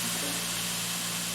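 Chinese greens with chicken sizzle steadily in a very hot pan over high heat, a continuous close frying hiss with a low steady hum beneath and no talking.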